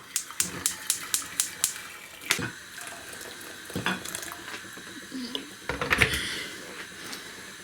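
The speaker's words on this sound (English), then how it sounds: "I'm going to put in the hot boiling water in it and turn on the fire" Hot boiling water splashes and trickles into a metal steamer pot after a run of sharp clicks and clatters, with a few more clanks partway through, close by.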